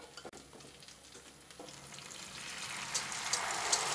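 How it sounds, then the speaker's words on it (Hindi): Mutton and gravy sizzle and fry in a cooking pot for mutton bhuna biryani. The hiss is steady and close, swelling louder toward the end, with no talking. "ये ग्रेवी की भी दो से तीन मिनट तक हमें भुनाई करनी है"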